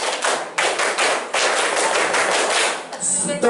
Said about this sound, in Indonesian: Tepuk pramuka satu kali.